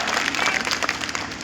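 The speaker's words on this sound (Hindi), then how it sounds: "जोरदार तालियों से अभिनंदन।" Dense crowd applause at a political rally in Neem Ka Thana, steady clapping from many hands at moderate distance, brief and continuous.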